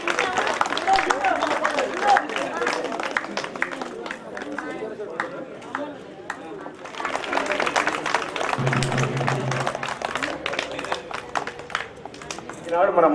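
Audience applause at a village felicitation event, a long, steady wash of many hands clapping that rises, briefly dips, and continues with crowd chatter mixed in.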